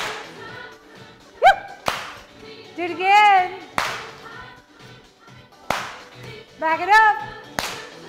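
Sharp hand claps from a group marching in an aerobics exercise class, a few loud single claps spaced irregularly among an instructor's spoken and sung cues.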